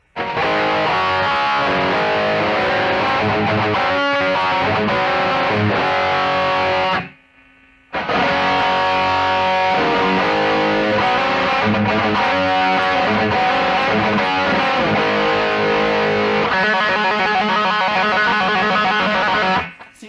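Dry, heavily distorted electric guitar through a BOSS eBand JS-10 with the chorus switched off, played continuously and loud, with a brief gap near the middle before the riff resumes.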